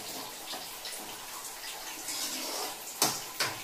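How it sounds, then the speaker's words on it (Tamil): Water pours steadily into a pot with a continuous splashing rush, followed by a couple of sharper splashes near the end. "அந்த அளவுக்கு தண்ணி சேர்த்து நல்லா கலக்கி விட்டுருங்க"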